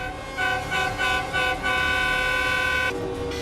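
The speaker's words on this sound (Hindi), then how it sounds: "प्रदर्शनकारी विरोध में लगातार हॉर्न बजा रहे हैं।" Truck horns honking repeatedly in protest along a long line of parked trucks: several short blasts, then one sustained loud blare, close and alone without talk.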